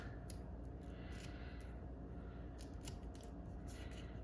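Small scissors snip paper during a scrapbook layout, a steady close run of quick crisp cuts with no talking.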